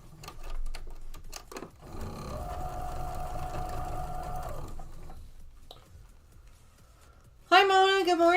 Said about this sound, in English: I'm just trying to get these all sewn up together